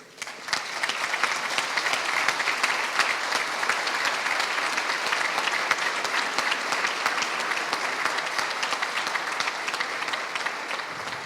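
Standing audience applauds the students and military faculty at a geopolitics lecture, sustained crowd clapping, loud and even, lasting about eleven seconds without talk.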